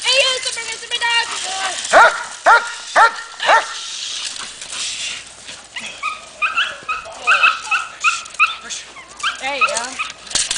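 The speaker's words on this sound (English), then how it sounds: "it's a dog!" A dog lets out a run of sharp barks and yips followed by a series of higher whimpers and whines, close and fairly loud, with people talking over and between the sounds.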